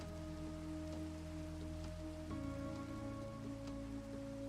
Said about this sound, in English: I don't like it when it rains in Minecraft.